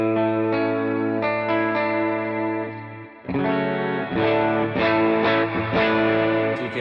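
Electric guitar through an HX Stomp AC30/AC15 amp preset with HX Effects delay and reverb plays sustained chords and notes, repeats trailing into a wash of reverb; a brief dip midway before fuller strumming resumes.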